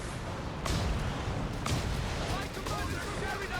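Rocket launcher barrage in the strategy game Company of Heroes 3, with two loud broadband blasts followed by rumbling impacts, heard under a commentator's voice.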